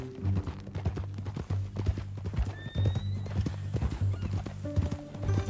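A horse in the Red Dead Redemption 2 video game clip-clops at a steady walk, its hooves thudding close by, with a whinny over the hoofbeats and brief talk in the background.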